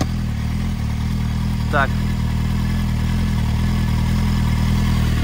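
A Kawasaki Z750 motorcycle engine idles steadily and close during throttle body synchronisation, a loud, even rumble throughout, with one short spoken word partway through.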